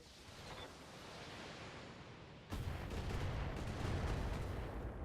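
Long-range missiles fired at a Thunderbolt mech in the BattleTech video game come across as a faint rushing roar that jumps in loudness halfway through and then holds as a sustained, noisy barrage.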